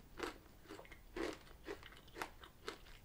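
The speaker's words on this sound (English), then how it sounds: "It just you sort of chewing it and nibbling with that crunch" Mint Daim chocolate is chewed close up, giving five or six crisp crunching bites in a steady rhythm, moderately faint with no talking.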